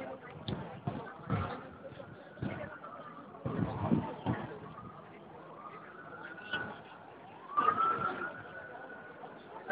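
Fire truck siren at a mall fire in Doha: a faint wailing tone rises and falls in sweeps behind intermittent loud bursts and nearby people talking.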